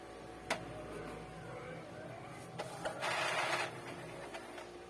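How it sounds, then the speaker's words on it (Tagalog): An Epson L110 inkjet printer powers on, whirring and humming with a few sharp clicks, then a louder mechanical grinding burst as its mechanism starts moving. "power on the printer."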